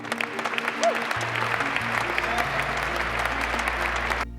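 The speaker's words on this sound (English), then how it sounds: "Thunderous clapping drowns out the final words." Thunderous clapping from a large crowd at a political speech, dense and sustained for about four seconds with a low hum underneath, ending abruptly.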